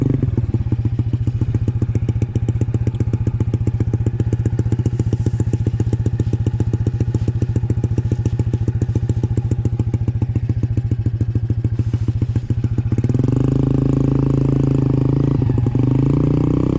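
A grain-hauling farm motorbike taxi climbs a slope on a rice-field track in Soppeng, South Sulawesi. Its single engine drones steadily and loudly for about thirteen seconds with rattling clatter, then its tone shifts and lightens as the climb continues.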